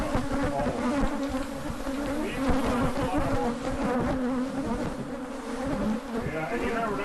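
A dense, steady drone of buzzing bees in a horse stall, close and continuous, with faint voices in the background.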